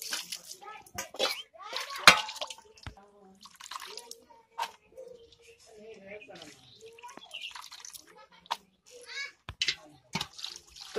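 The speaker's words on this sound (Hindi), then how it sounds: "तो चौथा बार हम धो रहे हैं।" Small fish being washed in water in a pot, heard as splashes, drips and metal pot clatter at close range, broken by pauses, with someone talking in between.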